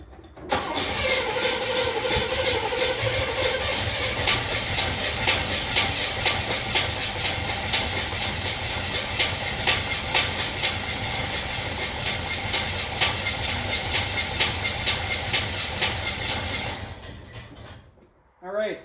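A Pontiac Trans Am with a 403 engine and a 4-barrel Edelbrock carburetor cranks and fires, then runs loudly and steadily close by for over fifteen seconds before cutting off; a voice speaks at the end.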